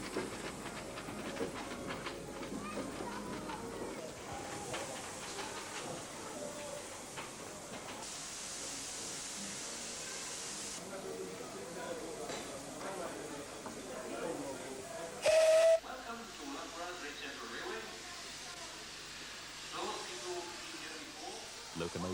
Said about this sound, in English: Kolhapur, an LMS Jubilee Class 460, built in 1934, drifts through the platform.